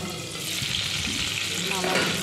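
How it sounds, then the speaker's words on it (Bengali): Potatoes stirred in a pan while cooking for a fish curry give a steady soft sizzle with scraping and a little watery bubbling, continuous and fairly quiet throughout. "ঢাকাটা খুলে তাই নেড়ে ছেড়ে দিচ্ছি"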